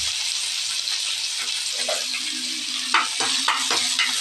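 Onions hiss and crackle in hot oil with curry leaves while being stirred for carrot and bean stir-fry, a steady close sizzle broken by a few clinking stir strokes near the end.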